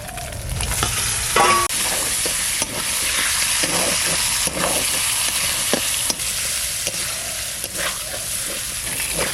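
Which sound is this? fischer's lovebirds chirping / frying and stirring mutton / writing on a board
frying and stirring mutton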